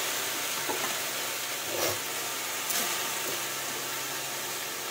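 Leafy greens hitting a dry, oil-free hot wok give a steady broadband sizzle and hiss, with a few soft rustling stirs and brief bursts of louder crackle, close and continuous.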